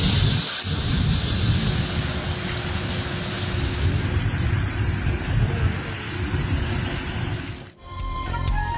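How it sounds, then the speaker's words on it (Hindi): Steady heavy rain pours throughout a thunderstorm in Lahore, with low rumbling thunder rolling beneath the dense hiss, loud and continuous with a brief dip near the end. "लाहौर के मुख्तलिफ इलाकों में गरज चमक के साथ हल्की बारिश"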